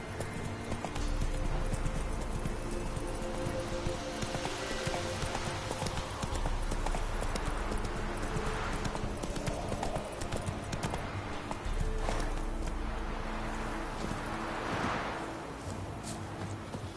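Roach, the horse in The Witcher 3: Wild Hunt, gallops with a steady rhythmic clip-clop of hooves that is loud and continuous for the whole stretch, over a low game ambience with no speech.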